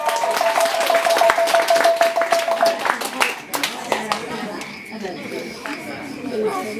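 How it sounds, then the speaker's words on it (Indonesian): Children clap their hands during a Bible quiz in a village, with a burst of quick, overlapping claps for a few seconds that then thins into scattered taps, close and fairly loud, with voices over it. "Tepuk tangan dulu."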